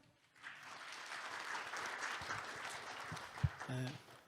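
Attendees at a government-industry R&D forum break into applause to welcome a university professor, the clapping swelling in after a brief quiet and fading as a voice begins at the end.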